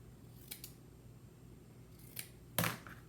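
Scissors make a few quick, quiet snips through soft quilting fabric, with a sharper, louder cut near the end, close up against a hushed room background.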